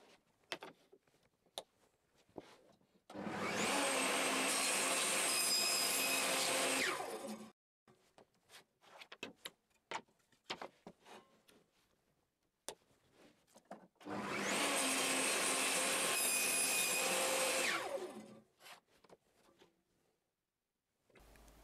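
A table saw makes a miter cut in wood at a set angle, whirring loudly in two long sustained runs of about four seconds each, separated by quieter clicks and handling noises.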